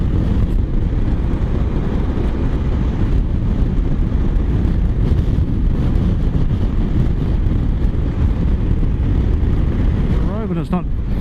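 Heavy wind buffeting roars against the rider on a moving Honda ST1100 motorcycle, loud and continuous with low rumble throughout, a rider's voice faintly under it near the end.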